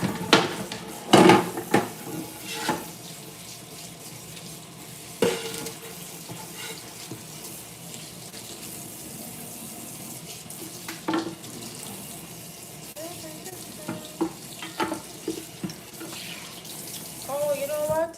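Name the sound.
water running while rinsing something in kitchen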